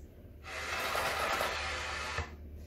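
Breathy, unpitched airy rush from blowing into a brass instrument mouthpiece without buzzing the lips, a steady hiss of about two seconds, close and alone, with no tone.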